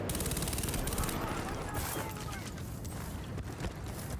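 Gunfire in Battlefield Bad Company 2 on the Isla Inocentes map, a steady rattle of rapid automatic fire and scattered shots heard at moderate distance under a thick wash of battle noise.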